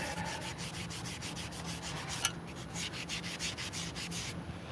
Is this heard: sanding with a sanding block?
yes